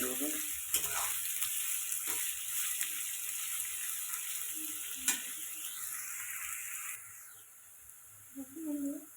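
Potatoes fry in a pan for fried rice, a continuous high sizzle with occasional sharp clinks of a utensil, fading toward the end as a voice briefly speaks.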